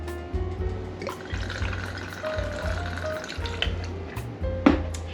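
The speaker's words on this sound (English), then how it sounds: "So we're gonna go in first with our Citron vodka." Citron vodka pours into an iced shaker tin, a close liquid trickle and splash over a low, steady background hum, with a sharper knock near the end.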